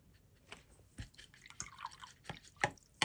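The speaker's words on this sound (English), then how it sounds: "let's get some water in these" Water dripped and splashed into watercolor paint pans, including Daniel Smith Jadeite Genuine and Hematite Genuine, as a series of small, close drips and taps spaced irregularly in a quiet room.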